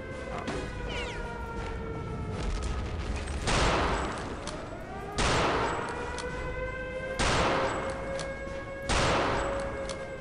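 MG42 machine gun in Return to Castle Wolfenstein firing several loud sustained bursts, each starting abruptly around every two seconds, over a steady game background with faint tonal hum.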